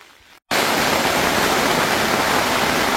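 Rain pours onto a Quechua Arpenaz Family 4.1 Fresh and Black tent, a dense, steady hiss that cuts in abruptly after a brief quiet moment and continues loud and unbroken.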